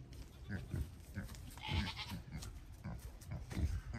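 Goats on a farm bleat several times, moderately close but fairly quiet, over faint low rustling and background noise.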